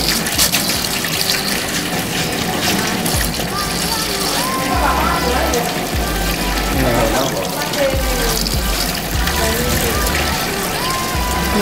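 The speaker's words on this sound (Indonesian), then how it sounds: "Nah, kita cuci bagian dalamnya satu persatu dulu." Water splashes and sloshes continuously as a helmet is washed with soap and water by hand, close and steady, with a person talking over it.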